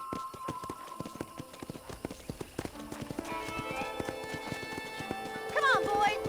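Horse hooves trot in a steady clip-clop rhythm through Red Dead Redemption 2 on PS5, close and distinct, with voices talking over the latter half and a brief whinny near the end.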